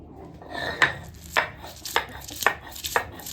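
Cumin and green chillies are pounded into a paste in a home kitchen, with a series of sharp, close knocking strikes at uneven intervals and soft grinding rubs between them.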